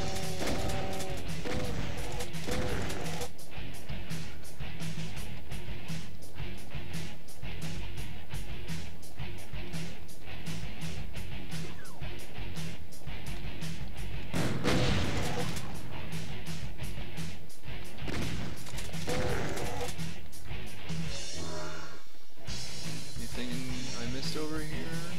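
Rocket explosions hitting a wall in a Doom roguelike, a dense run of booming blasts and crashes that continues almost without a break, loud throughout under a game soundtrack.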